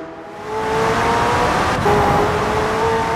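McLaren Senna engine in Forza Horizon 4, a loud, steady high-revving drone that holds nearly constant for about three seconds with a brief pitch shift near the middle, no voices over it.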